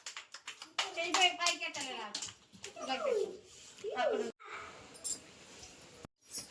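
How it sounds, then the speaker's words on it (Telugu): Preschool children in an Anganwadi center clap for a classmate: bursts of scattered, uneven hand claps in a small room, mixed with an adult's voice and children's chatter. "క్లాప్స్ కొట్టండి అక్షయ్కి"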